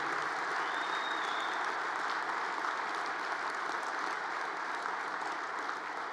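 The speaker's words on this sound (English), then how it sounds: "I would like everybody to give a round of applause to those locals that have" A large convention hall audience at a steelworkers' union convention applauds in a dense, steady wash of clapping that continues without break, heard from a distance.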